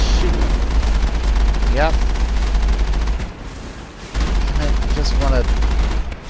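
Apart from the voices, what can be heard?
gunfire from a military vehicle in video game Mass Effect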